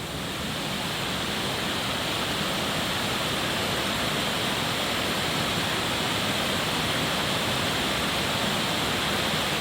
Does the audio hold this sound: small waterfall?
yes